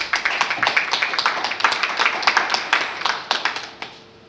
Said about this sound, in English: Please, a round of applause for our chairman.